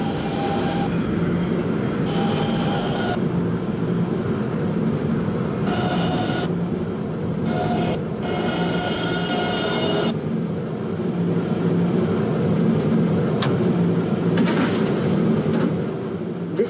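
Express train in the Roblox game PTA running toward Kennedy Main Street, a loud continuous rumble of wheels on rails with squealing and rattling bursts throughout.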